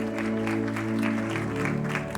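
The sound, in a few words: congregation applause in church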